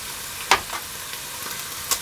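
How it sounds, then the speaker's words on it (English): Lamb pieces fry in a hot pan for a shepherd's pie, a steady soft sizzle with a few sharp crackles and pops standing out. "I'm going to fry off the remainder of the lamb"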